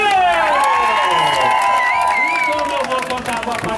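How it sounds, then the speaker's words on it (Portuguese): Audience at a celebration in Sapopemba, São Paulo, cheering and clapping for Ivone, a loud close crowd with whoops and shouts over applause throughout. "Uma salva de palmas mais que especial para Ivone!"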